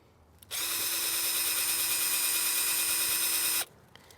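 A power drill bores a shallow hole through the bark of a large maple tree, giving one continuous high whine for about three seconds against a quiet outdoor background.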